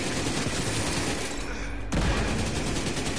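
Dense gunfire from a firefight in Tom Clancy's The Division 2, with heavy overlapping shots and a sniper firing from above, rattling continuously and loudly, with a sharp heavier burst near the middle.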